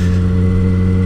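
A motorcycle fitted with a new Leo Vince underbody exhaust holds a loud, steady idle-to-rev drone with strong low harmonics, close and continuous, with no voices over it.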